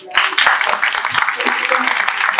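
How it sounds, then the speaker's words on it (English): Audience applause after a film masterclass at an expo, a crowd breaking into sustained clapping that starts abruptly and stays even, with individual claps audible and faint voices underneath. "please give a great applause to"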